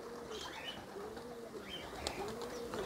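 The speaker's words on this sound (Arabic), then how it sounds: "حمامه تفرفر غادي ينزل" Pigeons coo softly at a distance in repeated low rolling calls, with faint chirps and light rustling in the background.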